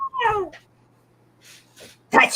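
A house cat gives a short, fairly close meow at the start, followed by a few fainter, brief rustling sounds and a louder burst near the end in an otherwise quiet room.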